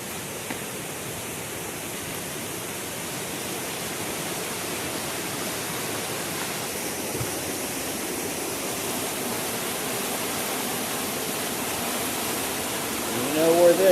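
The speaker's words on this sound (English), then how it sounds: "And a really beautiful little waterfall." A small waterfall at Deep Creek pours in a continuous, even broadband rush, close and steady throughout with no breaks, a faint rustle entering near the end.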